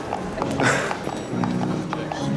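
Horse hooves clip-clop on a hard floor in Zelda: Tears of the Kingdom, several irregular steps close by, mixed with other game sounds while people talk.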